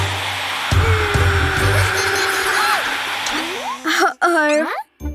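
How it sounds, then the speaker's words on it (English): A powerful cartoon hair dryer roars loudly and steadily, a broad blowing rush that runs for several seconds before cutting off, followed by sliding comic sound effects and a brief voice near the end. "Wow, this hairdryer is super powerful. It will melt the ice in no time."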